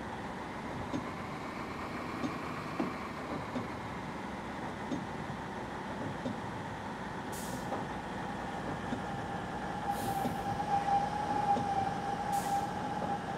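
A 10-car train running in Train Simulator Classic, a steady low rumble of motor and wheels with a faint tonal whine, fairly quiet and even, with a few brief high clicks near the end.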